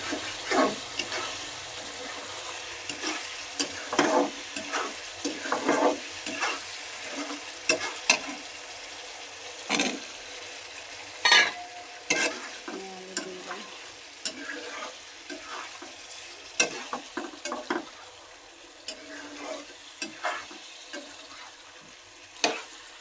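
Native chicken and potatoes fry in a pot with a low, continuous sizzle. Frequent scraping and knocking stirs come in uneven bursts throughout, with a few watery splashes now and then.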